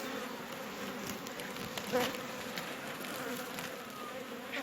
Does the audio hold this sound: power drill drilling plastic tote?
no